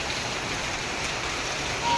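Heavy rain beats down on a village house roof in a steady, loud, even wash of noise, with a faint bump near the very end.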